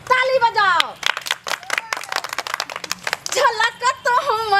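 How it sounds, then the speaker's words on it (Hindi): A crowd claps for a Republic Day performance at a school event, a run of quick, irregular hand claps framed by voices talking before and after. "ठीक है, ताली बजाओ"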